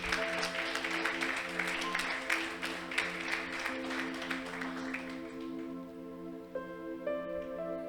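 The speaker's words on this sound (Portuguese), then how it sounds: "Você pode aplaudir pela vida do Xande?" A church congregation claps steadily for several seconds during a Bible study, the applause gradually thinning out toward the end over a sustained musical drone.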